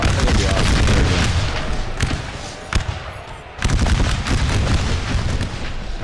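Musket volleys from massed infantry in Napoleon Total War with an American Civil War submod, loud rolling bursts of gunfire that surge, drop briefly and resume, dense and close.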